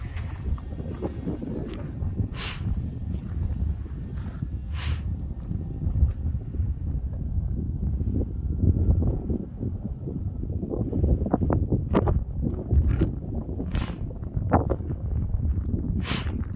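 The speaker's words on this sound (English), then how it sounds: "There's like 20-mile-an-hour winds today." Strong wind of about 20 mph blows across an open field on a cold day of about 38 degrees while a 3D-printed Sportster sport kite is flown, making a steady, loud roar and buffeting against the microphone with no voices.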